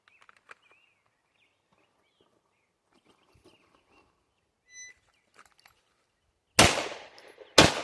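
Two loud, sharp shots from a MAKO R7 pistol fitted with a quad port compensator come near the end, after several seconds of near silence with small scattered clicks and handling noises.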